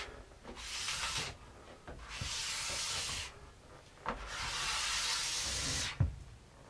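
A sintered ski base is worked back and forth along the tail to strip material and flatten it, giving long steady rasping, sanding strokes in three sustained bursts with brief gaps between.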